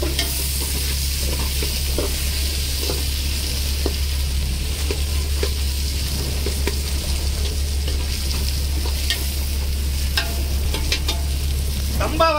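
Onion, ginger-garlic paste, tomatoes and green chillies fry and get stirred in a pan while cooking outdoors at sea in the rain: a steady close sizzle with intermittent stirring scrapes and clinks, no talking.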